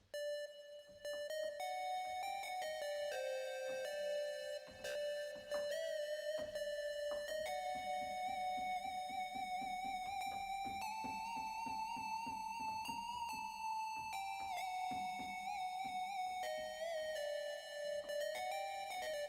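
A bright psytrance synthesizer lead from a Serum preset plays a sustained, slowly shifting melody over a soft pulsing backdrop, with no voices.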